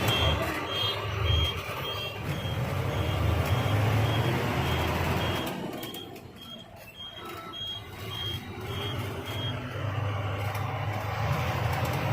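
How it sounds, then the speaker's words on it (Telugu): A bus on a long road trip from Kothagudem to Mysore reverses with regular, evenly spaced electronic warning beeps over a continuous engine rumble and traffic noise. "ఈ బస్ వెనుక పోని"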